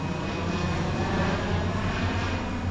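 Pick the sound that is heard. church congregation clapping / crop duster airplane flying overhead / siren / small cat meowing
crop duster airplane flying overhead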